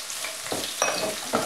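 Onions and garlic fry in a few tablespoons of hot vegetable oil in a skillet, giving a steady close crackle with a few brief louder bursts of sizzle and stirring.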